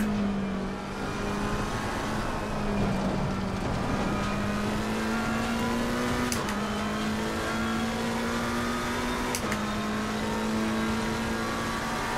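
McLaren race car in Assetto Corsa Competizione, engine droning steadily at high revs with sharp gear shifts punctuating the climb, each shift cutting in crisply before the pitch rises again, close and loud with no talk.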